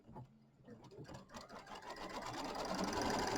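An embroidery sewing machine stitches a quilt tack-down line, a soft rapid mechanical whirring that starts up and builds to a steady run, heard faintly and close.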